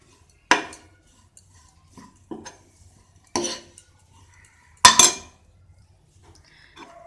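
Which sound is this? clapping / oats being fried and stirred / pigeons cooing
oats being fried and stirred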